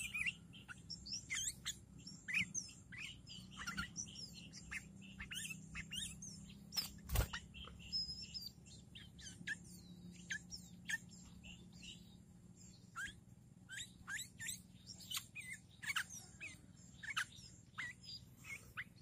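A sooty-headed bulbul sings in short, sharp, repeated chirps and whistled phrases at a steady pace, fairly clear over a faint background hum and no talk.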